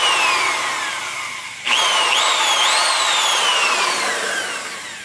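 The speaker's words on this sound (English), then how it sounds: "I just go in there and drill till I see it" A power drill whines loudly and continuously, its pitch rising and dipping as it bites into an AR-15 .300 Blackout upper receiver part, with no voices.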